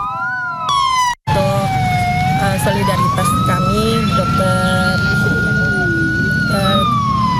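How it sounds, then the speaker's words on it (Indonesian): Sirens from three ambulances sound at an outdoor mourning vigil, loud and close, with rising and falling wails that overlap continuously and mix with crowd noise. A voice speaks briefly near the start. "diakhiri dengan pembunyian sirine dari 3 unit ambulans"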